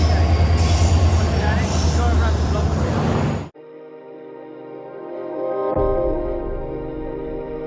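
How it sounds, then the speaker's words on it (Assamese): A late train pulls into a railway station with a loud, close rumble and squealing wheels that cut off abruptly, leaving a lower steady hum and rising engine drone while people talk nearby. "তো আহি গ'লগৈ ট্ৰেইনখন।"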